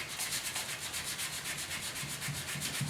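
Hand sanding block rubbed over a 1972 Ford 4x4 pickup tailgate, quiet rhythmic back-and-forth rasping strokes, close and alone.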